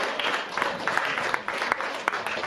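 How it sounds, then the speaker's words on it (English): A class of children at a parenting session claps steadily, soft and slightly distant, with scattered louder claps and faint voices underneath. "They're clapping for you to sit."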